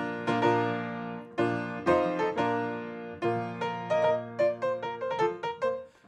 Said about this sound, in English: So that's Wagner from Lohengrin